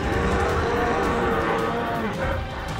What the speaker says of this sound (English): The bear's roar would seem as loud as an oncoming train.